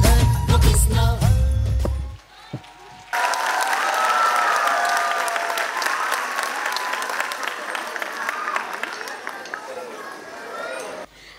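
An audience at a school annual day for young grades bursts into loud, sustained applause and cheering after a brief lull. The clapping holds steady for several seconds and then fades out near the end.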